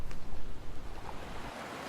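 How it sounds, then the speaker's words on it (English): Pacific ocean surf surges against a cliff face on the New Zealand coast, a broad, steady roar of breaking water mixed with wind buffeting the microphone, with no voices. "I'm just waiting for a huge Pacific roller to crash into the cliff face"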